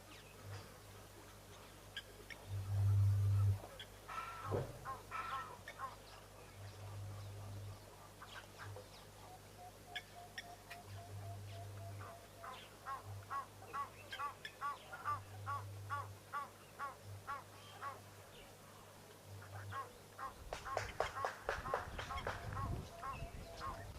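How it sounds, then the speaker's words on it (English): White-faced ducks and Egyptian geese call intermittently at a distance at an African waterhole, honks and quacks scattered over a long outdoor stretch with other birds chirping. "White-faced duck, coots, Egyptian geese, African jacana, black-winged stilt."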